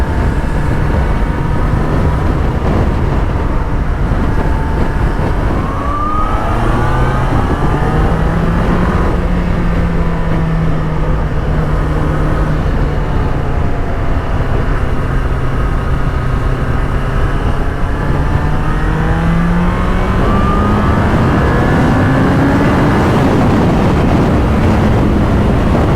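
A 1998 Yamaha R1 motorcycle engine pulls hard under acceleration, its pitch climbing steadily through the rev range as it revs higher, loud and continuous with heavy wind rush and no talking.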